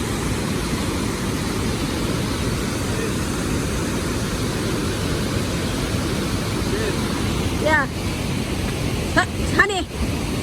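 Water rushing out of a dam spillway at Huai Sam Phat dam, swollen from daily rain, makes a loud continuous broadband roar with brief chirping sounds near the end.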